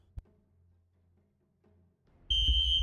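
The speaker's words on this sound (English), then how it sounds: "my fire alarm is going off in my apartment right now" Apartment smoke alarm kicks in abruptly after a couple of faint thumps, a loud sustained high-pitched electronic tone over a low rumbling background.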